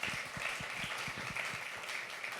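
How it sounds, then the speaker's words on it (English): Fairly quiet applause from the audience at a Real Producers' Playbook session, a hiss of many hands with a few distinct claps up close repeating in a loose beat. "Let's give a giant round of applause to everybody that spoke today."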